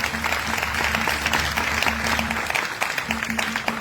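An audience at a church revival service breaks into sustained, dense clapping, loud and close throughout, with a faint voice and a low steady hum running underneath.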